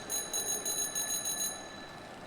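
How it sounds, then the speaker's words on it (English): A small bell in the video game Jump King rings about seven quick, evenly spaced times, bright and faint, then its tone lingers and fades. "For now, I ring my bell."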